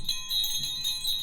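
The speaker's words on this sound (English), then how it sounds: "We're going to ring the bell in 5, 4, 3, 2." A hanging bell in an old hospital in South Pittsburg rings out with a bright, sustained metallic tone. Several strikes pulse through the ringing as it carries on without fading.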